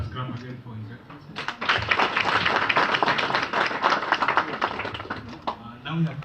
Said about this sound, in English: Let us clap again for His Excellency